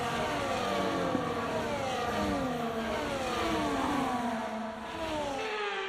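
F1 24 race cars heading back to the starting grid at Las Vegas, engines whining and shifting through gears in overlapping rising tones, a steady moderate drone with no talk.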